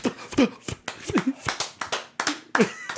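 A few sharp hand claps ring out nearby in an irregular burst while people talk and laugh over them.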